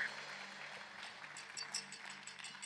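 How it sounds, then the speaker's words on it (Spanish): Faint applause from a church congregation rises in uneven, scattered claps during a service, with some crowd murmur mixed in. "Denle un aplauso bien fuerte al Señor."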